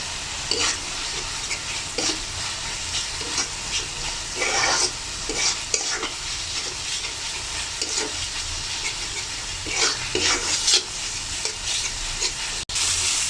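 Spice masala for pabda fish bhuna, cooked down on medium heat, sizzles steadily in a pan while a spatula stirs it, with repeated scraping strokes over a constant frying hiss; no voices.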